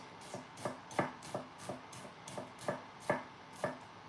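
A knife chops on a cutting board in a steady rhythm, about eight crisp, fairly loud strokes spaced roughly half a second apart, with no talking.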